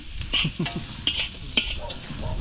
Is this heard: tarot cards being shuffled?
no